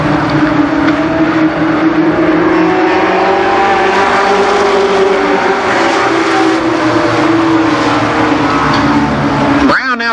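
Race cars thunder around Columbus Motor Speedway at a Labor Day 1990 event, a loud, continuous roar of engines with pitch swelling as the pack passes close by.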